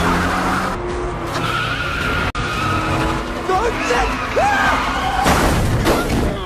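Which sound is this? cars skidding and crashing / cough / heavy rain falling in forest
cars skidding and crashing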